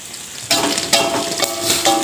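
Sliced shallots frying in hot oil while being stirred, a loud close sizzle punctuated by several scraping stirring bursts in an irregular rhythm.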